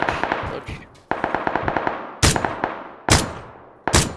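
Automatic weapon fire in the shooter game PUBG comes in rapid bursts and clusters of sharp cracks, with several louder, heavier single shots standing out near the end.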